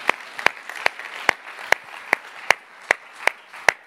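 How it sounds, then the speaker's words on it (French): A church congregation claps in unison, sharp sharp claps landing in an even rhythm about two or three per second, loud and clear over a soft crowd murmur. "on peut applaudir le Seigneur de ce qu'il fait ce matin"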